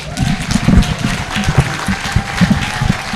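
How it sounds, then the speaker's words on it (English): Applause from an audience at an International Women's Day event in Kenya, a broad wash of clapping with a low rumble of crowd noise and faint voices beneath. "A round of applause"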